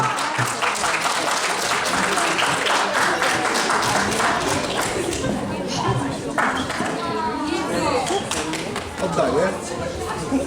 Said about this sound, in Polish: Wielkie brawa, zapraszamy.